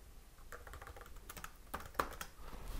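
Computer keyboard typing while entering Matlab or Octave code: a steady run of light, close key clicks with a few sharper, louder taps near the end, and no talking.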